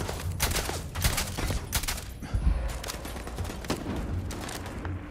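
Rapid bursts of gunfire in the space game Starfield, repeated cracks and booms in an uneven barrage during a firefight near a staircase, loud and continuous with no voices.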